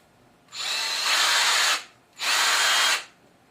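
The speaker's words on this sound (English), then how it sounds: "we're gonna put this drill bit right on the pilot hole" A power drill runs in two sustained bursts of about a second each, separated by a short pause, boring holes during assembly of a Tamiya TB04 LaFerrari model; close and loud with no talking.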